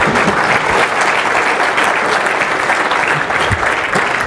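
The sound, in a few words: audience applause after a successful live demo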